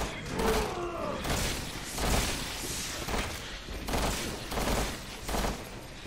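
Rapid bursts of video-game gunfire in Resident Evil 6, loud repeated shots in clusters at a steady rhythm, with someone talking faintly over parts of it.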